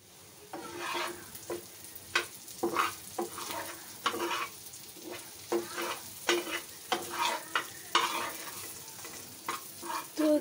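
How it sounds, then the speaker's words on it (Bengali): Crab frying in a pan, a soft hiss broken by frequent rhythmic scraping and clattering strokes of a spatula stirring, close and moderately quiet with no one talking. "তো দেখলেই তো কাঁকড় ভাজিটা প্রায় হয়ে গেছে"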